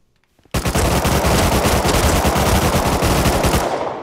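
Rapid automatic gunfire rattles continuously and loudly for several seconds in the video game Rust after a brief quiet start, then cuts off abruptly.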